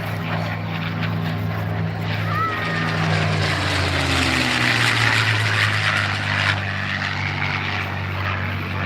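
A 1944 P-51 Mustang fighter plane flying at an airshow, its propeller engine droning loudly and steadily with shifting pitch as it passes, while an announcer talks over it.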